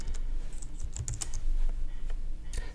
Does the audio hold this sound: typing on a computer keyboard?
yes